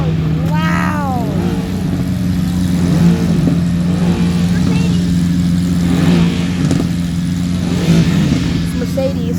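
A loud Ferrari engine revs at a car show with a steady idling drone and repeated rising throttle blips, close by, while people talk nearby.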